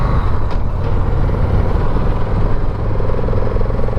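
Engine of a 2016 Victory Magnum motorcycle while riding, a loud, steady low rumble with throbbing exhaust pulses and wind noise, continuous throughout with no talking.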